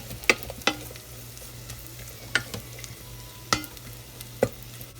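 Chinese sausage sautéing in hot olive oil, a quiet low sizzle under a steady hum, with five sharp utensil scrapes and taps spaced about a second apart.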